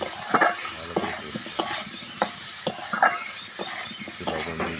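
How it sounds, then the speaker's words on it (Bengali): Frying fish being stirred with turmeric in a pan for a mango-and-tamarind fish dish; repeated scraping strokes of a spatula come in an uneven rhythm over a soft, constant sizzle. "তারপর হলুদ দিয়ে ভালো করে নেড়ে নিতে হবে"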